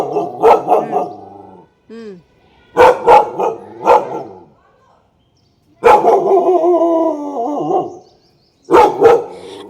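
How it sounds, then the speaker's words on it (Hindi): A dog barks loudly and close by from a raised perch, in bursts of several sharp barks separated by pauses, with a brief whine-like yelp between them and a short murmur from a person. "ये देखो कहाँ चढ़ के भौंक रहा है।"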